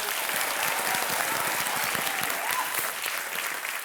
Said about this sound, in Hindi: अभी लोग सब ताली वाली बजा देते हैं